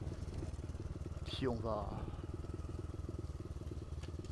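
A motorcycle engine idles with a steady low throb while the rider parks in a small lot by Sainte-Croix cathedral in Orléans; someone talks over it, and a brief louder rev rises midway.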